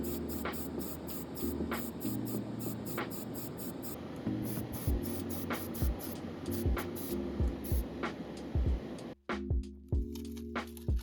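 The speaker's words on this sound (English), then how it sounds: "then I spray the pieces with black primer." Repeated bursts of hissing black primer aerosol spray, short and pulsing, with a rattling can and faint clicks between sprays over steady background music.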